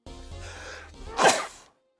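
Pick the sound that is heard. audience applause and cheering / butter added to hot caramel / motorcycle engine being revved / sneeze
sneeze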